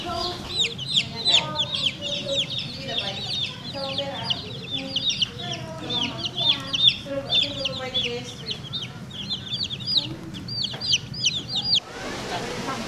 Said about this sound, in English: Look at these little chicks here.